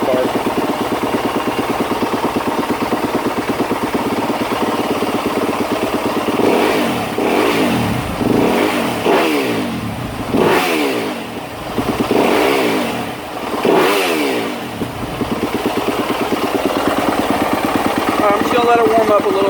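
A Yamaha YZ250F or YZ450F dirt bike engine runs warming up at close range, with a steady buzzing idle broken by several revving blips in the middle.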